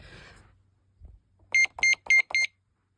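A Sky Link SC-001 security keypad sounds its panic alarm as four quick, loud, shrill beeps in a row, following a brief stretch of low murmur and a soft thump.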